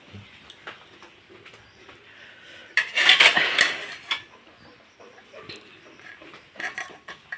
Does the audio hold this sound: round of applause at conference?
no